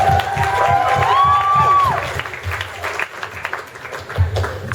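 Applause and cheering from a crowd at a Comic Con 2014 panel, clapping and whoops loud at first and then tapering off over a few seconds, with a voice briefly heard on a microphone.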